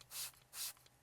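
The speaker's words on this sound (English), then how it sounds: "Then I'll spray some directly onto my microfiber towel." Interior cleaner is sprayed onto a microfiber towel in two short, soft hissing bursts, close and quiet.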